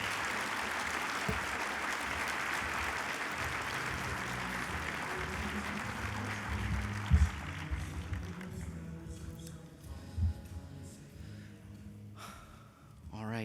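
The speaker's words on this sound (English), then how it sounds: "could we give him a round of applause?" Audience applause at an awards luncheon fills the room for several seconds, then gradually thins into scattered clapping, with murmurs and faint voices underneath.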